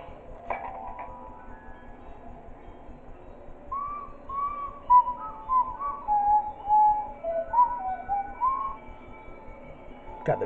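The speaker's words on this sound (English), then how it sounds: "the music sounds very distorted in this game." Faint, warbling, whistle-like music from the Baldi's School House video game, a wavering melodic line that wanders up and down in pitch over a low background hum, with no voices.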